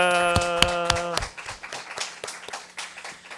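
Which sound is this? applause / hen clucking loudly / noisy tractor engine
applause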